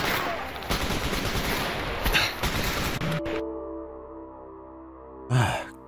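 Automatic gunfire in STALKER Anomaly, a dense sustained burst of loud shots for about three seconds, then a tonal hum with one more sharp crack near the end.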